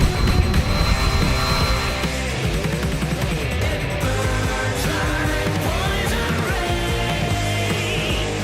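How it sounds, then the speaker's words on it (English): A steady, loud whirring drone hum with wavering buzzy tones fills the clip, like propellers hovering close by, with a faint shout in the background. "He brought the drone over"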